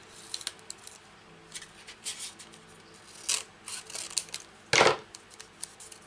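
Paper being trimmed for stamped card making, with faint scissor snips and rustling handling sounds, then one louder crisp cut or slide near the end; quiet and close, with no talking.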